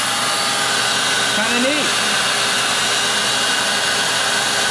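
A homemade vacuum brake bleeder on a 1980 vehicle runs as a loud, constant motor whir and hiss, with a brief short remark spoken over it partway through.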